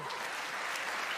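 Audience applauding at a live Unreal Engine 5.2 tech demo during State of Unreal 2023, a brief, even burst of clapping from a crowd at moderate distance.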